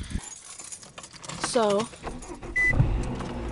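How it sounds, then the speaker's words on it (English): Someone climbing into a car: keys jangle, clothing rustles, and the door thuds shut, all close and fairly loud, with a person speaking briefly between the sounds. "let me get in the car first"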